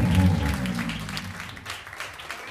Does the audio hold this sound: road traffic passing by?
no